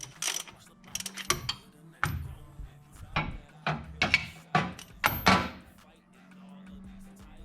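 Hand-operated thread rethreader worked on a threaded part, giving a series of irregular metallic clicks, scrapes and ratcheting turns close up, with pauses between bursts.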